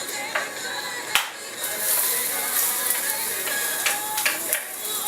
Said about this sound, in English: So let's go ahead and let these saute.